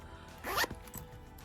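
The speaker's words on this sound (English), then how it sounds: "On the back side, you have this zippered pocket." A zipper on the back pocket of a Brighton bag with a heavy brass fossil pull, one quick close rasp pulled open over faint room tone.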